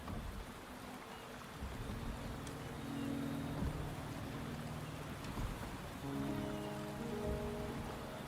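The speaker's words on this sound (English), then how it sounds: "The rain is subsiding, and the sky will soon clear." Steady rain falling in the video game Wuthering Waves, a continuous even hiss with soft tonal music layered over it throughout, no voices present.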